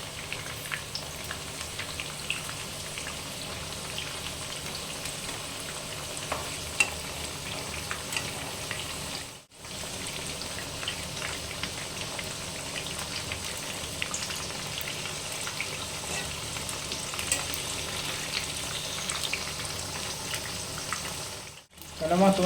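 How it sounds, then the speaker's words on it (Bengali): Eggplant slices fry in hot oil and are turned in the pan, giving a continuous crackling sizzle with occasional scraping and two brief dropouts, moderately loud and close. "এইভাবে এটাকে ভেজে নেব ভালোভাবে। দেখুন পাল্টে দিচ্ছি আমি।"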